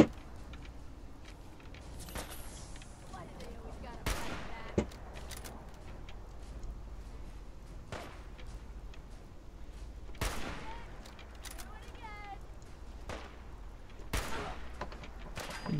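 Sporadic gunshots during a firefight with raiders at Hangman's Alley in Fallout 4, sharp cracks arriving in irregular bursts a few seconds apart over quiet background, with occasional talking between shots.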